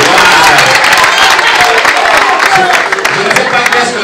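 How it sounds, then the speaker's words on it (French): Dense applause and crowd noise fill a large concert arena, loud and sustained throughout with a steady wash of clapping and a hint of voices underneath. "Est-ce qu'on peut applaudir pour elle, s'il vous plaît?"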